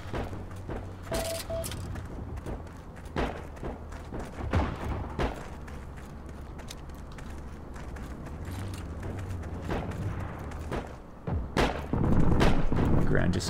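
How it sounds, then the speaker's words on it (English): Gunfire in the World War II shooter Heroes & Generals, with scattered sharp shots and distant bursts throughout and a heavier volley near the end, while a player talks over it. "Let's walk towards the sound of gunfire."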